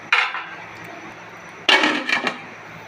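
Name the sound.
covering the cooking pot with a lid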